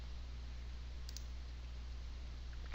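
A computer mouse clicks during image editing. Two or three soft, quick clicks sit over a steady low electrical hum, with no talking.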